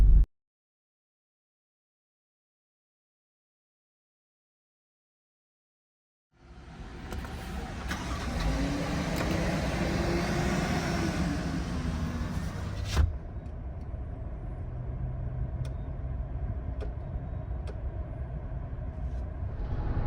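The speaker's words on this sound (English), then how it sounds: "we are in sport mode" A 2023 Toyota Tundra drives in sport mode with a steady road and engine rumble inside the cab, which starts after several seconds of silence. A single bump sounds midway through.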